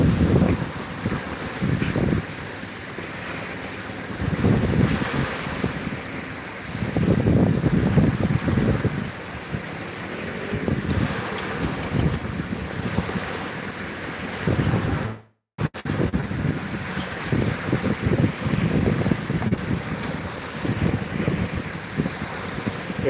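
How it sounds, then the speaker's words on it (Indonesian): Ocean waves roar onto the beach at Aluppangnge, Barru, with gusty wind buffeting close by; surges swell and recede in repeated rushes across the whole stretch, with a brief dropout midway. "saya baru kembali menikmati suara gemuruh ombak di sini"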